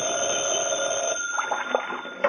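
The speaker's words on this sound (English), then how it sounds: "when the phone rang" A telephone bell rings steadily in a vintage radio drama sound effect, a sustained metallic trill that fades into scattered softer clicks near the end.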